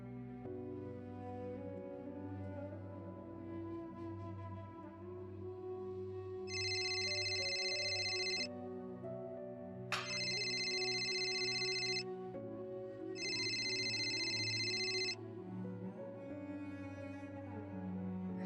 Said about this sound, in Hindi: नीलो को फोन करके पूछती हूँ।